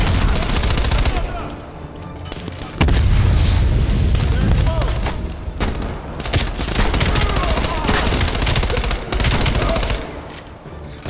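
Gunfire from an MP5 submachine gun in Call of Duty: Black Ops Cold War, a loud dense barrage of shots and booms that goes on throughout, with game sounds and effects layered beneath it.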